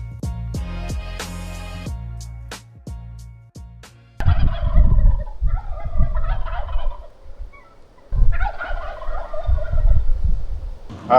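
Wild turkeys gobble from their roost on a property, with loud, rattling gobbles in separate bursts, a cluster in the middle and another near the end, heard fairly close in otherwise quiet surroundings.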